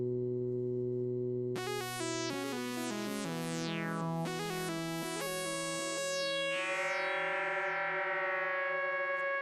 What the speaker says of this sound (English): Rick, we have a little echoey synthesizer just for you.